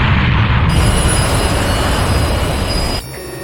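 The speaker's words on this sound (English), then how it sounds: "an unmanned freight train carries its valuable subterranean treasures to other planets" A loud, steady rumble of a freight train rolling along the tracks, with faint wheel squeal on top, dropping off abruptly near the end.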